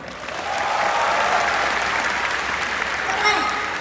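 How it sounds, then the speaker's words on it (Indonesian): Studio audience at a comedy roast bursts into applause, a loud sustained clapping that swells quickly and holds, with faint crowd voices mixed in. "Tepuk tangan dong."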